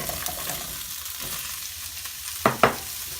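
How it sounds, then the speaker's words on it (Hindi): Potatoes tossed into a pan of hot oil with green chillies, ginger and garlic give a steady close sizzle, with two louder bursts of stirring and scraping near the end. "आलू डाल के फ्राई कर लेंगे इसे"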